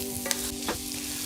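Kung Pao chicken with garlic stir-fries in a hot pan, a short burst of steady sizzling with a couple of quick spatula scrapes.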